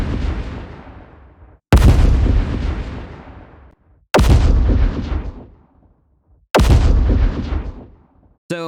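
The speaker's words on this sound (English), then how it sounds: "I just dropped some library explosions so you can hear what they sound like without processing whatsoever" Four heavy unprocessed library explosion sound effects, one after another, each a sudden loud boom that rolls off into a long fading rumble, with short gaps between them.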